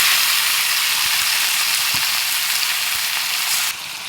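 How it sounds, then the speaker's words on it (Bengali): Chicken pieces fry with browned onions in a hot kadai, producing a steady, close, crackling sizzle with faint stirring scrapes and no talking. "দেখো আমি মাংসটা ভালো করে কড়াইতে দিয়ে কষিয়ে নিয়েছি"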